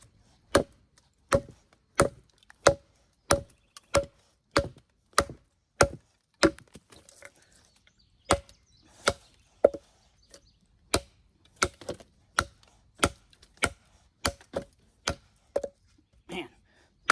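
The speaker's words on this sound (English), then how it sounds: "just going to do a little bit more chopping here with the Warhammer" A Work Tuff Gear Warhammer knife chops into wood with sharp, evenly spaced blows, about twenty strikes in a steady rhythm with a short pause midway, each a crisp close thwack in otherwise quiet surroundings.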